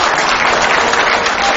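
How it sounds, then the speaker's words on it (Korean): A party founding assembly audience breaks into loud applause, a dense, close, continuous roar of clapping over a short span. "한번 큰 박수를 한번 보내주십시오"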